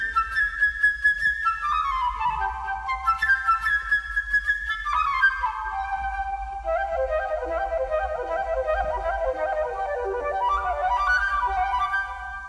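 A flute plays the bird theme from Prokofiev's Peter and the Wolf, a bright, quick, trilling melody alone, with fast runs up and down in a high register and no voices.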